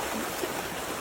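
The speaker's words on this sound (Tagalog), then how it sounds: "Ang lakas ng tubig!" Strong flood water rushing in a dense, steady roar that fills the whole moment, loud and continuous with no voices heard.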